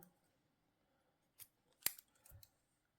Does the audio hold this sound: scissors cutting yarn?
yes